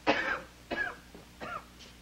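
A man coughs four times in quick succession, hoarse and raspy, fairly close, with short pauses between.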